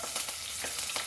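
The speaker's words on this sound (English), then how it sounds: "Just fry this onion nicely till it is soft." Onion and curry leaves fry in a tablespoon of oil, giving a faint, steady sizzle with a few soft crackles and stirring sounds, close by and with no talk.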